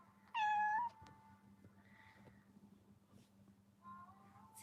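A house cat lets out one loud, close meow with clear rising and falling tones, followed by a quiet room with a low steady hum and soft shuffling, then a faint second vocal sound near the end.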